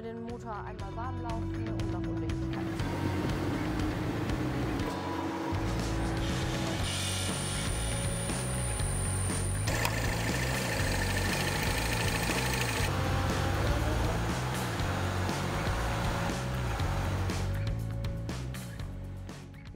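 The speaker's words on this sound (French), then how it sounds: "maintenant nous faisons chauffer le moteur" A Mini Cooper S R56 with the N18 engine idles steadily as it warms up after an oil filter housing replacement. The running is close and continuous, with a mechanical rattle and a faint whine throughout.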